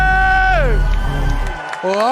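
Arena crowd at an MPL Indonesia Mobile Legends esports match cheering and shouting, a loud roar that fills the space, with a bright musical tone sweeping over it and a brief dip before the noise swells again.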